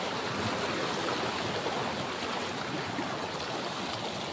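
Strong waves splash and churn continuously at close range, a dense steady roar of surf with no pauses and no voices.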